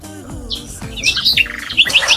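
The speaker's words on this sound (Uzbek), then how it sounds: "Bilmayman qanaqa qushku, lekin juda chiroyli sayravotdi." An unidentified bird sings in a residential yard, bright repeated chirps and warbling phrases rising in intensity toward the end, fairly close and clear over a low background hum.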